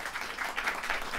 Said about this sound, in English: let's give Terry a round of applause